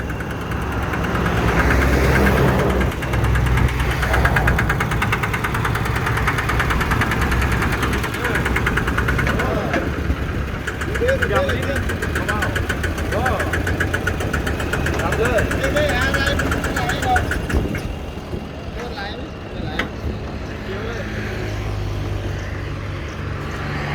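A Thai mini farm truck (E-taen) with its engine chugging and rumbling as it drives up a loading ramp, loud and close, a steady knocking drone with voices talking over it.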